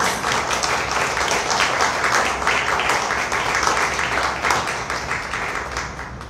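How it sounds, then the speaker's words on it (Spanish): Audience applause at a presentation of a heritage journal, honouring a group of specialists: dense, steady clapping from a crowd throughout, fairly loud and close with no talk over it. "Pido un aplauso para este maravilloso grupo de especialistas."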